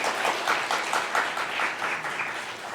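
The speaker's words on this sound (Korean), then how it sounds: "이쯤 되면 박수가 막 나오던데." Applause from a church congregation at a young adults' worship service, a steady wash of many hands clapping at moderate volume for a few seconds with no one speaking over it.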